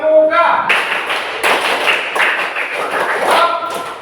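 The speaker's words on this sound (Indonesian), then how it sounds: "Tepuk pramuka." A group does the Indonesian scout clap (tepuk pramuka), a loud, close, rhythmic pattern of claps in quick bursts. A short vocal cue opens it, and the voices chant along throughout.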